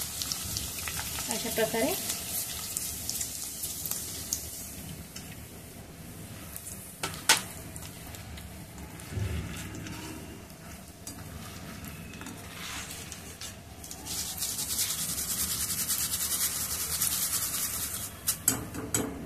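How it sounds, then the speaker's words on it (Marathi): Maize poha deep-frying in very hot oil on a high flame, a steady bubbling sizzle with occasional scraping stirs in the pan, someone briefly speaking over it. "आता मका पोहा तळून घेऊया"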